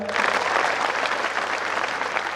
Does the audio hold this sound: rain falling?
no